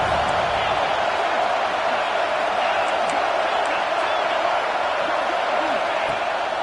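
A stadium crowd at a football game against Texas roars steadily on third down, a dense, continuous wash of noise with faint voices beneath it.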